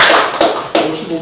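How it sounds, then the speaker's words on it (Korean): A few sharp hand claps from an audience at an academic theology conference session as a commentator is welcomed to speak, brief and close, with voices alongside. "박수로 한번 환영하시죠."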